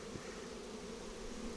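Honey bees buzz around an open hive box during a brood inspection, a low, steady droning hum that stays faint and continuous without voices.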